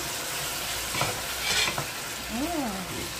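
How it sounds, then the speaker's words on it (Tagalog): A spoon stirs pork adobo in a pan: scraping and clattering strokes over a soft sizzle, close and steady, with a brief squeak near the end. "try natin haluin"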